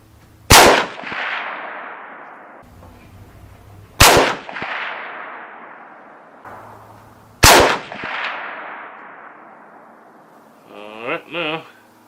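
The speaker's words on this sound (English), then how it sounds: "Let's do another 3-shot group to the right." Three sharp, loud .35 Whelen rifle shots fired at even intervals of about three and a half seconds, each with a long decaying echo, followed by a brief short burst of another sound at the end.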